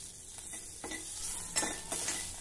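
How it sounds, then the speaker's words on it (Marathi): Green chilies roasting in oil in a pan, a close, continuous crackling sizzle with a few soft scrapes of stirring, no voices. "ही मिरची देखील आपल्याला मस्त भाजायची आहे"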